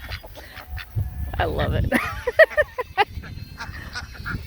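A flock of geese and other farm birds honks and calls in several loud, close bursts, mixed with a person talking nearby.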